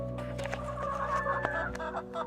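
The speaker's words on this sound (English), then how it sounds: "Raising backyard chickens." Backyard hens clucking up close, a steady run of overlapping clucks and short calls from several birds at once.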